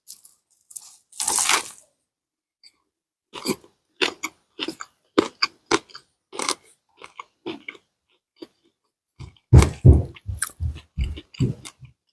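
Homemade biscuits with fried oyster mushrooms are eaten close up: an initial crunchy bite followed by a long series of separate, rhythmic chewing crunches and soft mouth sounds, with a louder burst of chewing near the end.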